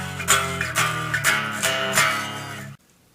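Distorted electric guitar bar chords on the bottom three strings, the first part of the bridge of a song: several strummed chord hits in a driving rhythm, then an abrupt stop into silence.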